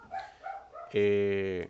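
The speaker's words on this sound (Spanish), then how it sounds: "Perdón por los perros." A dog lets out one loud, drawn-out bark close by, after a moment of faint voice in the background.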